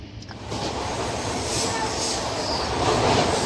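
Mumbai-area local train pulling into Kalyan station, a steady loud rumble of wheels and carriage noise heard from on board with faint voices underneath.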